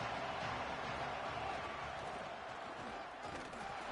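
A dense stadium crowd roars steadily in an NCAA college football video game, cheering on the defense before a third-down play. The loud, continuous wash of crowd noise holds for the whole stretch with no clear breaks.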